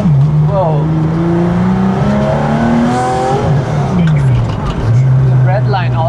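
A Porsche GT2 RS with a raspy titanium exhaust revs hard and close, its engine note climbing and dropping in repeated pulls, with people talking over it.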